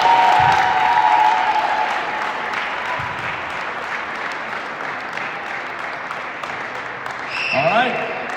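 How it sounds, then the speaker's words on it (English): Sustained audience applause at a senior night recognition, a crowd clapping for a senior player, loud and dense at first and then steady, with faint voices and a brief whistle-like tone near the end. "Please clap it up for Jackson."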